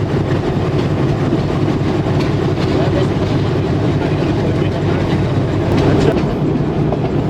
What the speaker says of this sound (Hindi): जिस पर आपने देखा कि अभी मेहर एक्सप्रेस चलती हुई आ रही है